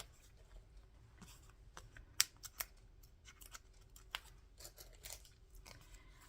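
Scissors cutting card for cardmaking, a series of sharp, quiet snips and clicks at close range, irregularly spaced, no talking.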